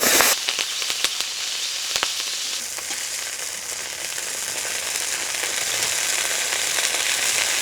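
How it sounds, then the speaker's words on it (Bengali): Food frying in hot oil during outdoor village cooking, a loud, steady close-up sizzle with a few sharp crackling pops near the start and no voices. "এই ভাজা তেলের মধ্যেই"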